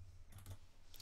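Keys clatter on a computer keyboard in a short, quiet burst of a few clicks, then a brief pause and another tap.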